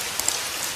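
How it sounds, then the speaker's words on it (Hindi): Steady, dense patter of rain falling, a hissing wash of drops with no voices. "बारिश की रात थी।"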